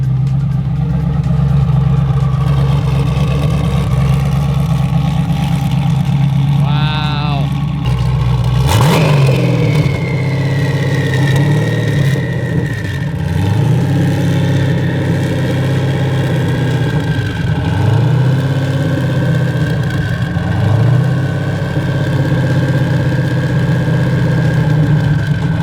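A Hennessey Venom GT idles loudly up close with a deep, steady rumble, gives one sharp rev partway through, then settles back while a high turbo whistle lingers over the engine.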